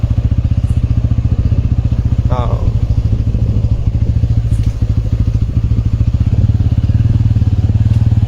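A motorcycle rides along a road at night, its engine running steadily and close up with an even throbbing pulse, with occasional clatter and a faint voice.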